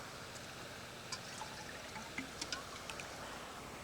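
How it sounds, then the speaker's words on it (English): A jar is filled with water from a woodland stream, giving a soft, continuous trickling and bubbling with a few faint splashes, quiet and close, with no talking. "let's fill up the jar with water"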